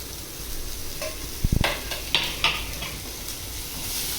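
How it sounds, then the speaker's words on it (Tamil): Onions sautéing in oil in a pan for sambar and banana stem stir-fry, a dense steady sizzle close by, broken by a few sharp spatula knocks and scrapes in the middle. "இதை நல்லா வதக்கிக்கோங்க சிம் ஃபுல்லாக வச்சு"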